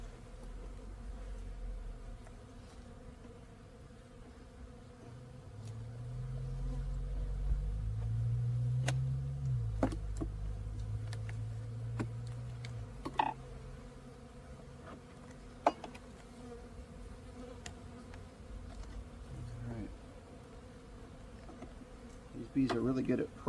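Honeybees buzz around an open backyard hive during an early March inspection, a steady low drone running throughout, with a few sharp clicks and knocks of the hive boxes being handled.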